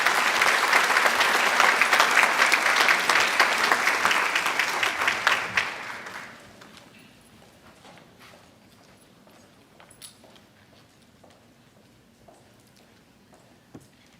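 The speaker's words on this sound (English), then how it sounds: "please join me in another round of applause congratulating all of the Rocky Mount High School students" Audience applause at a high school academic awards ceremony, sustained clapping from a large crowd for about six seconds before fading to a quiet room with scattered faint noises.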